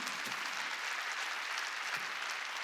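A church congregation at a Sunday worship service applauds in a sustained, dense burst of many hands clapping, steady and fairly loud from start to end.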